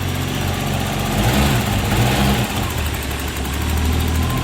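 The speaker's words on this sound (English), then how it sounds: "With the engine running here," Cold-start idle of a BMW M6 fitted with a Dinan turbo engine, a steady loud low rumble with a constant drone running without a break across the clip and no talking.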